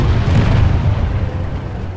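A grenade explosion in the PlanetSide 2 video game gives a heavy, low boom that rumbles and slowly decays across about two seconds, with no talking.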